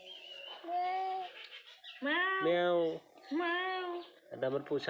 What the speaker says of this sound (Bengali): বিড়াল পোষা পোষা পোষা